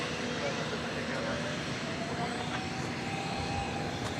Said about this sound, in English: the 777 seems to make a lot more noise than the